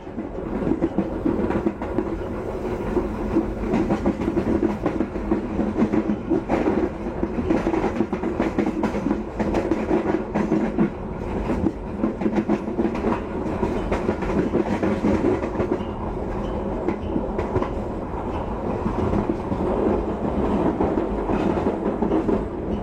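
An Argo Wilis executive-class train runs steadily along the rails between Bandung and Surabaya with a continuous rumbling roar and rhythmic clacking of wheels, heard from inside or close by, without talking.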